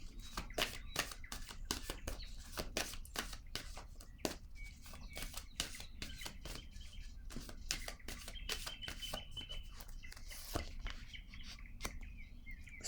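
Tarot cards are shuffled close up in quick, crisp riffling bursts and soft slaps during a reading, faint and continuous without talk.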